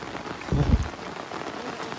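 Rain falls into water in a steady, hissing patter, with a brief louder splash-like thump near the start, then continuous rainfall.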